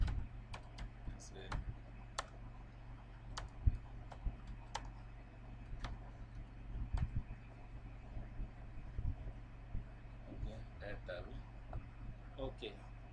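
Someone types on a computer keyboard, with sparse, irregular, soft clicks spread out over a low steady hum and a few clustered taps near the end, fairly quiet.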